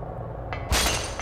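Glass shatters in the PlayStation horror game Silent Hill, a sudden loud crash with a brief bright crack just before it, heard close and alone over a low rumbling background.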